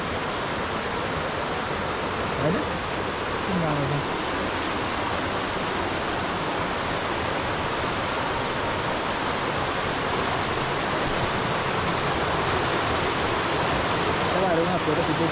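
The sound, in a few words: mountain stream flowing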